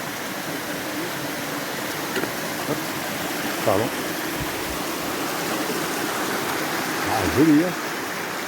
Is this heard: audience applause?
no